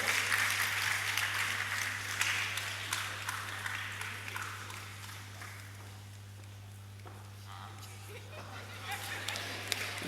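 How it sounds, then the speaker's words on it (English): Applause from a crowd at a student union leader inauguration ceremony, a dense steady clapping that fills the clip at moderate level, with a low steady hum underneath and some voices mixed in. "Another round of applause for her."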